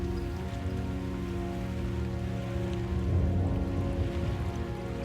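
Rain falls in a steady, soft patter, even and continuous, layered over a low sustained tonal drone with no voices.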